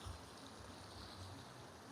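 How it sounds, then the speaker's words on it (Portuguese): Water pours steadily over the spillway of the Riacho Verde reservoir in Deputado Irapuã Pinheiro, a soft continuous rushing flow heard alone at low level, without talk. "Aqui é a sangria do açude Riacho Verde"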